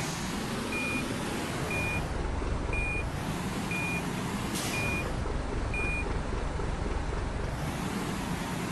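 Steady, regularly spaced reversing beeps from a truck backing up to a trailer in a truck simulator video game, sounding over a constant low engine rumble and wind-like noise, with no talk.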